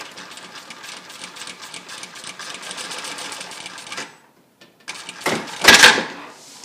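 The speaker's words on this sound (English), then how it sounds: "I'm using an industrial machine that has an auto thread cutter" Industrial sewing machine with an auto thread cutter stitching through tarp, a close rapid whirring run for about four seconds, a brief pause, then a louder clunk and snip of the cutter.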